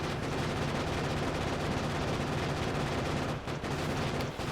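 A submachine gun fires continuously in Factorio, a dense unbroken stream of rapid automatic shots that stays loud and steady with only a brief dip near the end.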